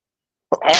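A single short, loud sneeze bursts out abruptly after a moment of silence, close to the microphone.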